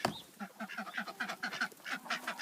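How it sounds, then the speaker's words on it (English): Several ducks, a drake and four hens, quack repeatedly in a busy, overlapping chorus, close by and fairly loud, with no talking. "Open the door and the ducks come dashing out."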